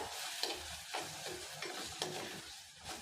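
Ground coconut paste stirred in a pan, soft rhythmic scraping strokes about every half second over a faint sizzle, quiet and close with no talking.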